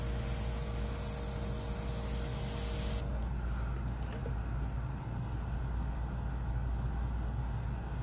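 A steady, close hiss from an airbrush used for nail art sprays continuously, bright at first, then turns softer and duller partway through with faint ticks.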